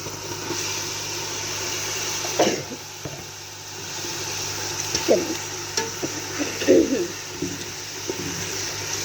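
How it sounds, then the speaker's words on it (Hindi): Spinach frying in masala with turnips in a pan, giving a steady, loud sizzle with occasional scraping stirs and spatula knocks throughout. "पालक को हम सिर्फ 1 से 2 मिनट मसाले में भून लें"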